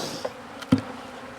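Honey bees at an open hive in an apiary, heard as a low, steady hum throughout with a couple of brief knocks from frame handling.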